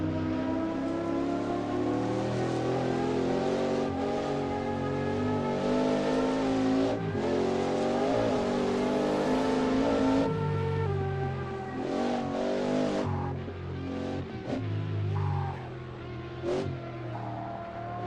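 A historic Nissan race car engine screams around a track during a vintage sports car race, a loud, sustained high-revving wail that shifts pitch through gear changes and fades slightly as it passes.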